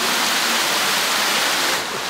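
Mountain stream on Achasan flowing steadily, a dense even rush of water heard close and alone, easing slightly at the very end.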